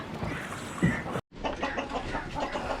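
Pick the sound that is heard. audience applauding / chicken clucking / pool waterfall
chicken clucking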